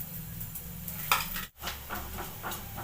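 Chopped onions sauté in a pan with a soft, steady sizzle and occasional stirring scrapes, plus one sharp utensil clink, all fairly faint and without talking.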